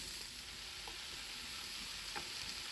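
Vegetables sizzle and fry in a pan, browning for a spiced chicken and pepper dish; a steady, soft crackling hiss runs throughout with a few light stirring clicks, no one talking.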